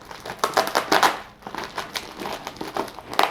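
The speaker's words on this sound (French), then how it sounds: "tout est ensuite emballé dans du papier bulle" Bubble wrap packaging is crinkled and crushed by hand in irregular bursts of crackling rustle, near and fairly loud, with brief pauses between handlings.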